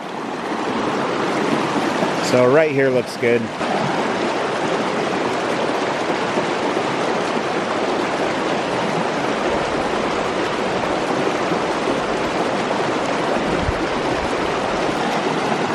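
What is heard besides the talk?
flowing creek water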